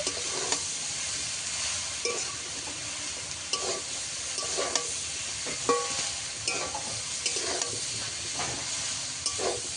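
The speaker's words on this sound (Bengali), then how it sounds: "হলুদ গুঁড়ো দিয়ে দেব লঙ্কার গুঁড়ো দিয়ে দেব এক চামচ ধনের গুঁড়ো দিয়ে দেব সব কিছু একসঙ্গে ভালো করে কষিয়ে নেব" Turmeric, chili and coriander powder fry together in a pan, giving a continuous sizzle broken by repeated scraping stirs and small utensil clicks throughout, with no talking.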